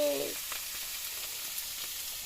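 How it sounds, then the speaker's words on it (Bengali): A fish frying in hot oil gives a close, steady crackling sizzle, with a brief louder burst of spattering oil at the start before the frying settles into an even hiss. "তেল ছিটকে উঠলো মাছটা ভাজতে গিয়ে"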